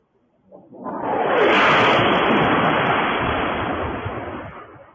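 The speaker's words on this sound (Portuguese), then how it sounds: "Isso aí é a bomba caindo." A loud, rushing roar of a falling bomb swells quickly and sustains for a few seconds before slowly fading, heard through a played recording.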